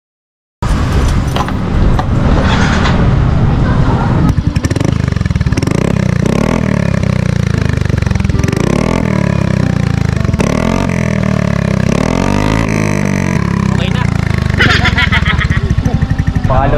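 Exhaust note of an Exos X6 MSI 125 motorcycle fitted with a V-Lane muffler, loud and close, revving up and down through repeated throttle blips for the whole stretch, with no pause.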